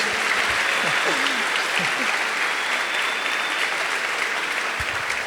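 Many hands clap continuously as a church congregation at a carnival congress applauds, an even, full wash of sound that stays level throughout, with scattered voices underneath.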